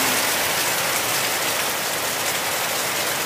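Heavy rain falls steadily outside a room, a loud, unbroken dense hiss of drops with no pauses and no voices.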